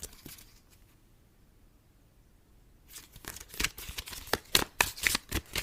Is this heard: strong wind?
no